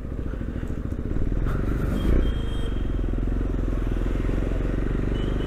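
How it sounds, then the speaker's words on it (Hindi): A KTM Duke 390 BS6 motorcycle on the move, its steady engine drone loud and close with road rumble and some wind buffeting. "तो आज की सवारी होने वाली है अपनी ड्यूक 390।"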